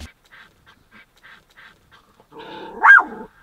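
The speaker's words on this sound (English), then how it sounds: "He was barking at the fence right here." A dog barks at a fence outdoors, a run of faint, evenly spaced yaps followed by one louder, sharper bark near the end.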